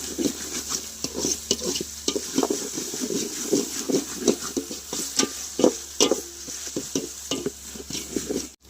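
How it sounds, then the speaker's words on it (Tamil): Ground spices frying in a pan for country-chicken curry, stirred steadily with a utensil that scrapes and taps the metal in an uneven rhythm over a constant hiss of sizzling oil. "நல்லா கிளறிக்கோங்க"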